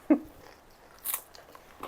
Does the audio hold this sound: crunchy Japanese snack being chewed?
yes